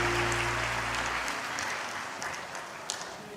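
Church congregation applauding newly baptized members at a Sunday service, a sustained round of clapping that starts over a fading organ chord and gradually thins out.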